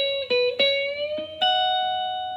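An electric guitar plays a country lick of whole-step string bends against a held note, imitating a pedal steel, with several picked attacks sliding up in pitch and then sustaining as the tone fades.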